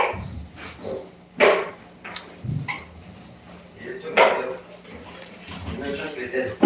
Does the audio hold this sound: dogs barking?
yes